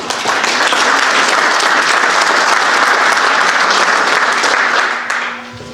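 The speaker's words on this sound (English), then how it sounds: "Big round of applause for that." Sustained audience applause fills a legislative meeting chamber, loud and dense for about five seconds before tapering off.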